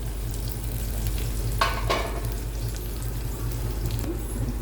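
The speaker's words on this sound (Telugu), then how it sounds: "తాలింపు వేగిపోయింది." A tempering of curry leaves and dried red chillies sizzles steadily in a pan for dal, with a low hum beneath and two brief louder spatters partway through.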